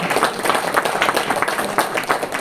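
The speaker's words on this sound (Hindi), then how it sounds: "इसके लिए तालियां होनी चाहिए। आप भी ताली बजाओ" An audience claps continuously and briskly, a dense wash of many hands at close range with no pauses and no talk.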